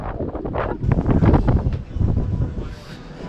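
Strong wind buffets the microphone in rumbling gusts at Red Sand Beach, Hana, Maui, loud and close, with no voices.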